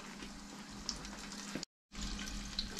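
Rainbow trout sizzles steadily in a frying pan with a constant hiss and crackle, broken by a brief silent gap before the frying noise resumes.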